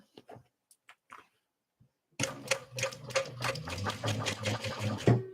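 A sewing machine stitches through vinyl at a 5.5 stitch length, its steady mechanical chatter starting after a couple of seconds of quiet handling clicks and running on continuously, close and clear.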